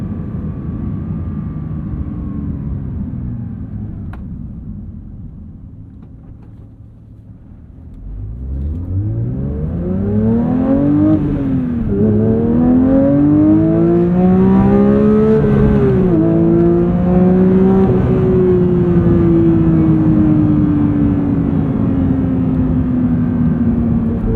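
A loud 2022 Porsche 911 GT3 engine idles low, then revs hard through rising and falling sweeps toward 9000 RPM, settling into a sustained high-pitched roar close by.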